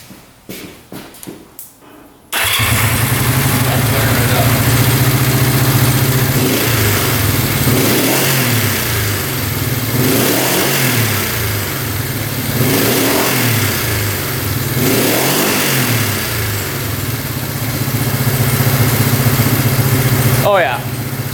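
A cheap carbureted motorcycle engine, pilot circuit just adjusted, settles into a steady idle around 1500 RPM with several smooth revs rising and falling, loud and close throughout after a brief rough start.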